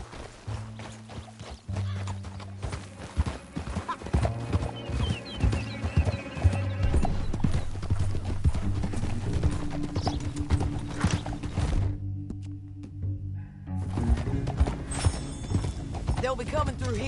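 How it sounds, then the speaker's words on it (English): Horse hooves clip-clop in a rapid galloping rhythm, close and loud, with occasional neighs and whinnies in Red Dead Redemption 2, mixed with game music and a brief gap near the end. "Back on your horse, let's get after them"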